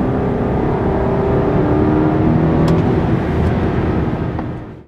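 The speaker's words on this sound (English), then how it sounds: "first gear and sport mode in this car, it's a lot of thrust. Pins you back, and it makes such a distinct V8 sound." BMW 550i sport sedan with a V8 accelerating hard in first gear in sport mode, a loud, rising engine roar that fills the whole stretch before cutting off abruptly at the end.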